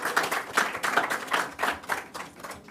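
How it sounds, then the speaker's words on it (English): Brief burst of audience applause, many hands clapping together in a lively, even patter with no talking. "another round of applause"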